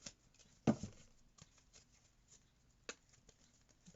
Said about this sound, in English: Give him a little shuffle.